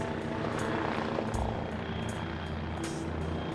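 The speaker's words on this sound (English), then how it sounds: "And another helicopter" A helicopter thrums faintly in the distance over the Hudson River, its rotor giving a steady beating pulse under wind and background noise.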